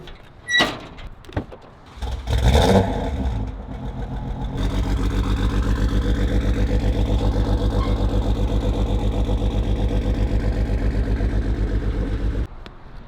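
A misfiring Toyota Supra engine starts after a few thumps and a door-like knock, then settles into a rough, steadily pulsing idle up close before cutting off.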